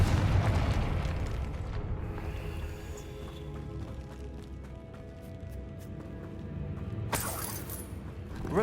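A Confringo spell blast in the wizarding game Hogwarts Legacy, a loud, rumbling explosion that opens at full force and slowly decays into crackling debris, then a brighter burst near the end.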